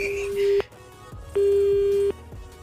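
A phone tone after a call ends: steady electronic beeps repeating in long pulses with short gaps, clear and close.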